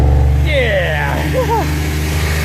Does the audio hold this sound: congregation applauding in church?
no